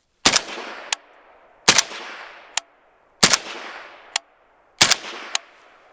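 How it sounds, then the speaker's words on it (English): Five suppressed rifle shots with supersonic ammunition through a Dead Air Primal suppressor, each a loud sharp crack with a short decaying tail followed by a fainter click, evenly spaced about one and a half seconds apart, no talk. "we're just gonna shoot 5 rounds, again, 5 rounds of, I don't even know what grain this is"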